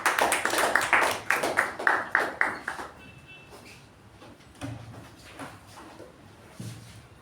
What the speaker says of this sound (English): Can we have a round of applause for that great?